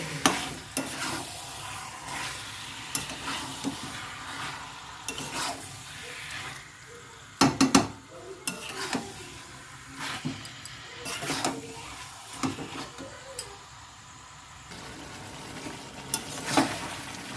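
Meat curry sautéing in a pan, stirred with repeated scraping and clanking strokes over a low sizzle, moderately near with irregular louder knocks against the pot.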